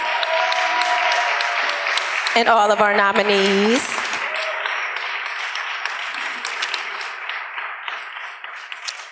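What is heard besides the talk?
thunderous round of applause for award winners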